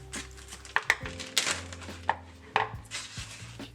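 A knife cuts open a baked potato, giving a series of quiet, irregular cutting taps and scrapes against a board or dish, with soft rustling in between, close and faint.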